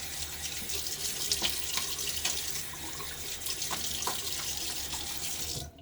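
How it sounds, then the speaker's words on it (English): A bathroom tap runs steadily for a quick rinse during a wet shave, a close, constant hiss of flowing water with faint splashes, cutting off at the end. "Okay, just a little quick half rinse."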